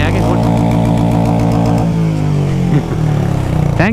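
Royal Enfield Meteor motorcycle engine revs loudly up close with rising and falling throttle blips, the harmonic engine tone climbing and dropping over a steady idle, with voices audible alongside.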